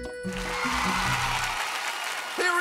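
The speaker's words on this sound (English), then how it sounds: "Thanks, but really, I don't deserve so much applause." Cartoon applause for the character Musculus in an animated episode about a mouse, a stretch of clapping that follows tones and a character voice, then gives way to another tone.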